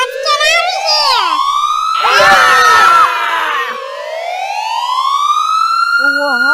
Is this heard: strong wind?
no